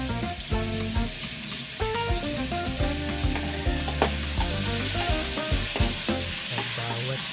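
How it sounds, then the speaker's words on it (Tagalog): Onion and garlic sauté in a hot pan for menudo, a steady loud sizzle with stirring clatter throughout, and what sounds like background music playing underneath. "Ito natin isasangkot siya ang ating sibuyas at bawang."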